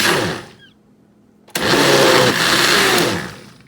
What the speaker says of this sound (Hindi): ठंडा करने के बाद मैंने इसे ग्राइंडर में डाला है।